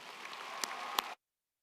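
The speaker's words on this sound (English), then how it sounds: "audience and classmates, joining in a big round of applause for these accomplishments" An audience at a high school graduation ceremony applauds, a dense, fairly distant wash of clapping with a couple of sharper claps, cut off abruptly after about a second.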